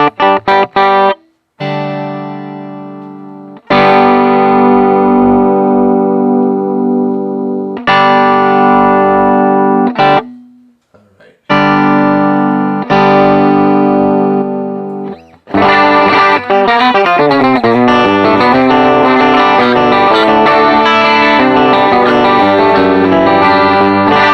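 Heavily distorted electric guitar played through a POD amp modeler, chords ringing out with long sustain, broken by a few short pauses, then a denser stretch of fast strummed playing, loud and close.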